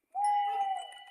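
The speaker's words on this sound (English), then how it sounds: "It is a real owl." A single sustained owl hoot from a cartoon, one smooth tone lasting about a second, fairly clear and alone, then fading slightly.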